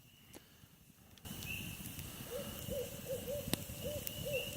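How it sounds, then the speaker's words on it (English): An owl hoots repeatedly in a short, rhythmic series of soft calls against a quiet night background with faint insect hiss. "Owl, obviously."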